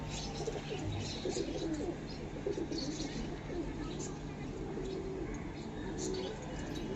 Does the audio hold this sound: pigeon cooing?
yes